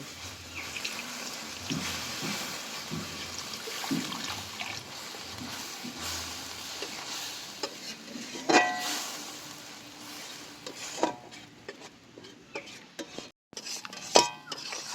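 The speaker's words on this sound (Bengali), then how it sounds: "এবার আমি মশলা ধোয়া জলটা দিয়ে আরও ভালো করে মশলাগুলো কষে নেব।" Spices being stirred and fried with water in a pan for a Bengali chicken curry with ridge gourd, with soft scraping of a spoon against metal, occasional clinks and splashes, and a few sharper knocks near the end.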